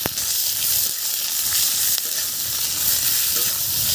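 Onion frying in hot oil with black cumin seeds, a loud, dense, continuous sizzle close up with no talking.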